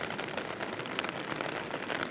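Rain patters steadily on a tarp shelter at a wild camp in the Lake District in bad weather, a dense, even hiss of drops close overhead with no voices.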